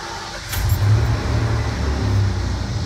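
An EFI Ford 302 V8 in a Bronco fires up and settles into a steady, close, low rumbling idle that holds for the rest of the moment, with no talk over it.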